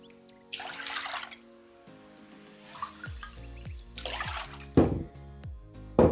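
Water poured into a bowl holding pressed lemon juice, a few bursts of splashing and trickling with drips in between, close and fairly clear.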